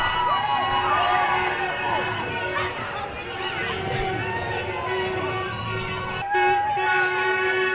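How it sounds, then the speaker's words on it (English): A street crowd at a Saint Patrick's Day parade in Balbriggan cheers for a passing rugby club, a loud continuous roar of voices and shouts mixed with music and horn-like tones, with a voice talking over it. "we got a cheer now from Balbriggan Rugby Club"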